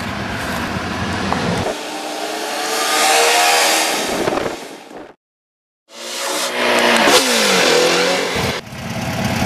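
A 1966 Volkswagen Type 3 Fastback engine revs hard and accelerates up through the gears, cuts out briefly, then roars back to full throttle, loud and close.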